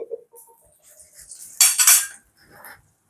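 Metal clatters briefly as a cooking pot is set down with a sharp clank and scrape, followed by a lighter rattle and quiet gaps.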